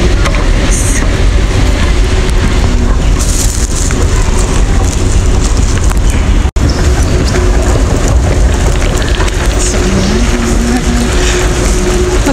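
An MRT train running in Singapore, a loud steady rumble and rattle of the moving carriages with faint tonal whine and occasional squeals, heard from close by.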